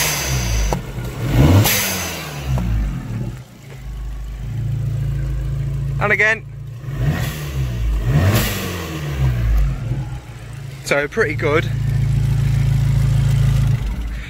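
Car engine with a Bonalume switchable dump valve revving in short bursts, each blip followed by a sharp whooshing valve release, repeated several times over a steady idle; someone speaks briefly between revs.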